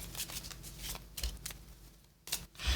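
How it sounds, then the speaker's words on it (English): Playing cards being shuffled during a solo tabletop game of Dragon Eclipse, with several quick riffling bursts and soft card slaps close to the microphone and no speech. "Let's just try and shuffle these again."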